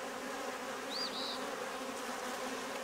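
Honeybees buzz during a hive inspection on a homestead as frames are worked, a faint steady drone with a brief rising whine in the middle and no talking.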